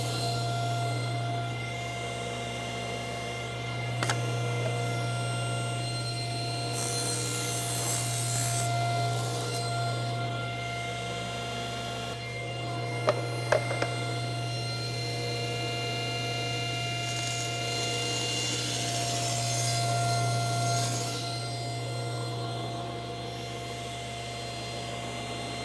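Trimming the wooden floor of a jewelry box to fit, a steady rubbing rasp of wood over a constant low machine hum, with a few sharp taps, close and moderately quiet.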